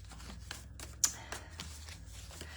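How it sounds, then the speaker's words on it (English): A deck of tarot cards is shuffled by hand in a quiet indoor room, producing soft repeated riffling and flicking bursts with one sharper snap, close and faint. "I'm going to give these cards a good shuffle to see what's happening"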